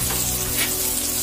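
Cabbage, carrot and capsicum frying for fried rice made from leftover boiled rice in a home pan, a steady close sizzle with light stirring, no talk.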